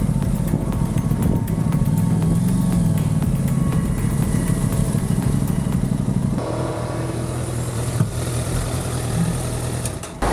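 Honda and Aprilia motorcycles at a race track near the end of the season, their engines making a loud, steady, close drone with idling and revving that shifts in tone about two-thirds of the way through, with no talking.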